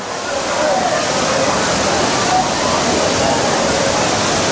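The Ainthaaruvi waterfall at Courtallam pours in a steady, full-bodied roar, broadband and unbroken throughout, close and loud with no pauses.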